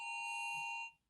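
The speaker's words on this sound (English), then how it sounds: "nationwide emergency test that FEMA and FCC are doing throughout America" Phone emergency alert test tone from a nationwide FEMA and FCC test, a loud steady multi-tone electronic screech held for about a second before cutting off, with no talk over it.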